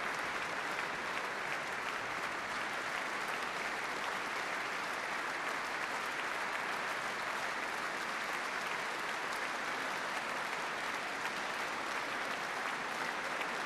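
Sustained, swelling audience applause fills a church after a live classical concert of Schnittke, Pärt and Rachmaninov works, dense and steady clapping from a large crowd throughout with no talk.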